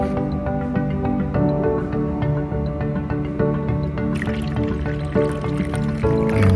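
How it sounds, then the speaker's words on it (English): Water pouring steadily into a small container to cover a ring being cleaned, a continuous close splashing fill with a ringing, resonant tone that carries on for several seconds without pause. "let me get a little more water in there"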